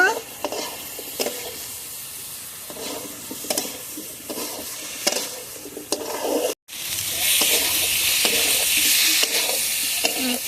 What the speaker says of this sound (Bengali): এখন সব মশলার সঙ্গে মূলটা ভালোভাবে কষিয়ে নেব